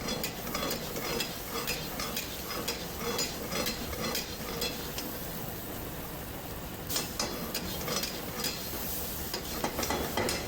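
Mutton karahi with sliced lemon and long-cut ginger stirred in a pan, continuous sizzling under rhythmic metal scrapes and clanks of a spoon against the pan, close and steady throughout.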